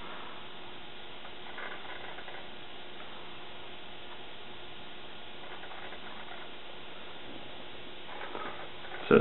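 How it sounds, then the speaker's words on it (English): A Macintosh LC 475 hard drive works quietly during boot, with faint clicking and ticking seek sounds over a steady low hum. The room is otherwise quiet and no one speaks. "I don't know if you can hear the hard drive from here"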